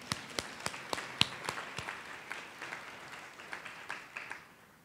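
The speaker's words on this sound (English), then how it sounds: "Now we're going to applaud." Sparse, fairly faint applause at a university event naming a new president, a small number of distinct claps spaced irregularly and fading out over a few seconds.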